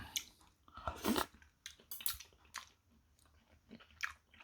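Someone eats japchae and tteokbokki up close, with soft, wet chewing and occasional crunchy bites repeating irregularly over several seconds. The sound stays quiet and no one talks.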